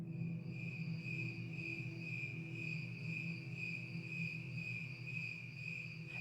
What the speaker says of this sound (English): the recording of the normal cricket singing into the night